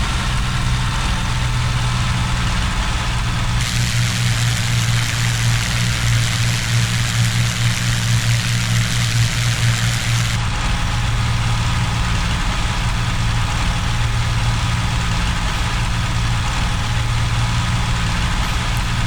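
P-40 fighter engine in the IL-2 flight game, throttled back to reduced power at about 2,700 RPM, a steady loud droning hum with no talk.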